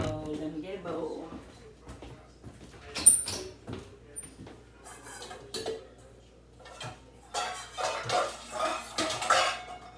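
In a home kitchen, a bowl is pulled out and handled, giving sharp ceramic clinks and clatters with knocks of cutlery and dishes, bunched at intervals and sometimes heard beneath a person's speech.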